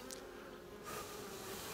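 Honeybees hum from an opened hive, a close, soft, continuous buzzing that swells slightly partway through.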